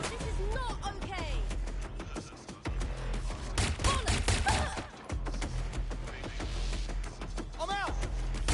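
Gunfire from the video game Watch Dogs: Legion: dense, near-continuous volleys of shots and thuds stretch throughout, with a voice shouting over the shooting.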